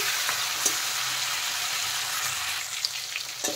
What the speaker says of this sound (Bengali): এখন এই সাইডটা আমি ভালো করে ভেজে নেব